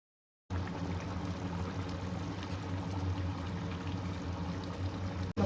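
Koramenu fish curry simmering in a pot after water is added, a steady close bubbling and hissing that starts abruptly and runs unbroken at an even level, with no talk.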